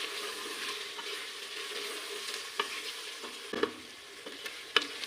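Beef karahi frying in ghee over a medium-low flame, a steady close sizzle with several sharp scraping clicks of a spoon stirring the pan.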